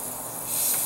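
Air escapes from a pressure sprayer of mold treatment as its top is unscrewed, a short close hiss that swells louder toward the end.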